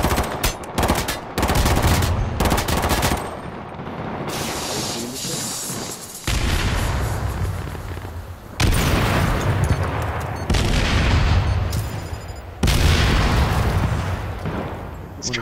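Gunfire in the battle royale video game H1Z1: loud, close bursts of rapid shots and booms come in several long volleys separated by short gaps, with faint voices underneath.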